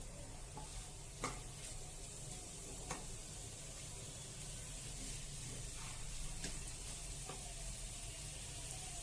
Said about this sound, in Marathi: अशा प्रकारचे हे चणे चांगले परतून घ्यायचे व्यवस्थित.